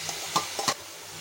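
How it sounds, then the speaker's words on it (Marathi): Washed dried shrimps sautéed with turmeric, garam masala and spices for sukat chutney: a quiet sizzle with three or four quick stirring scrapes in a short burst, close by. "आता आपण धुतलेली सुकट टाकूया त्यामध्ये।"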